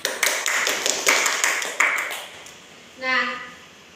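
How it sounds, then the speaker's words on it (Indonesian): A class gives a short burst of applause, quick dense clapping from many hands for about two seconds that fades out, followed by a brief voice. "Beri aplaus dulu."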